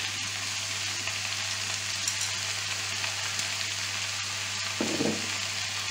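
Olive oil frying in a hot pan over raised heat, with an even, steady sizzle and faint crackles. A brief burst of stirring or clatter comes near the end, with no voices.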